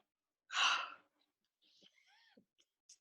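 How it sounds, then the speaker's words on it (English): A single breathy yawn-like exhale, loud and close, followed by faint soft voiced sounds and small clicks. "I'm yawning, like crazy during this"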